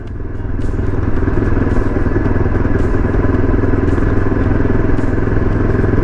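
A Yezdi Adventure motorcycle cruising at 30 km/h gives a steady, close engine drone with a fine mechanical clatter, loud and continuous throughout, with no pauses.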